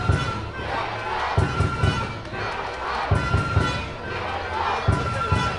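Large crowd of about 4,500 at a 12U baseball gold medal game between USA and Mexico, cheering and shouting in repeated surging bursts with thumping beats, loud and sustained.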